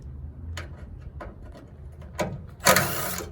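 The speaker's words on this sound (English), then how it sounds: "It's only 2 bolts, so I'm gonna get to removing them." Ratchet wrench loosening the two bolts that hold vehicle lights, short bursts of ratcheting clicks spaced apart and then a louder, denser spell of clicking near the end, close and with no talk.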